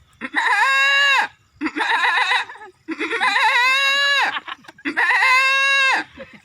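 A human voice imitates a goat bleating in four drawn-out, wavering calls separated by brief pauses, loud and close, in a comic village mimicry act.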